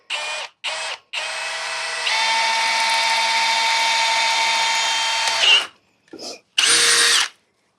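A cordless drill runs steadily into wood for several seconds after a few short bursts, loud and close, then stops and gives two more quick pulses.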